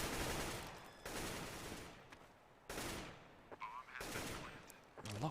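Bursts of AK rifle gunfire from a competitive video game match at a 2015 world championship qualifier, Brazil versus Colombia, crackle in repeated loud volleys of several shots, with faint commentary voices beneath.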